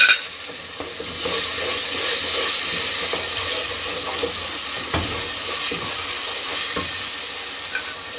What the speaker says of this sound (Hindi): लहसुन और अदरक का पेस्ट डालेंगे।